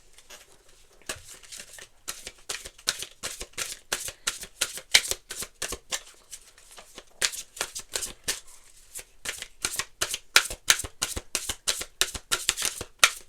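Tarot cards are shuffled by hand in a long run of quick, crisp riffling flutters, close and clear, with brief pauses between bursts and no talk.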